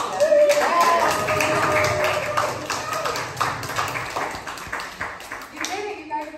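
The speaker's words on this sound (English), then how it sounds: "clap for them" Audience applause at a poetry reading event as two poets are introduced, dense sustained clapping that fills the room and slowly thins toward the end, with a voice speaking briefly underneath.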